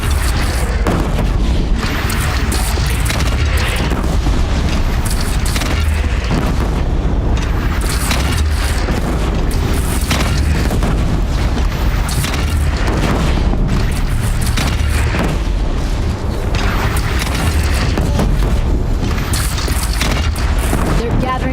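Cannon fire and explosions in the video game Horizon Zero Dawn, a dense, continuous barrage of loud booms and blasts with steady rumbling battle noise throughout, voices shouting over the din.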